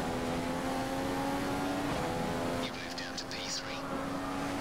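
A Formula 1 car engine in the F1 2015 racing game at the Malaysian GP drones steadily through a lap, a high, constant whine that shifts pitch midway, with someone talking over it.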